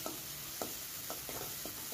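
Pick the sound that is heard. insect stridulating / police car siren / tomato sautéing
tomato sautéing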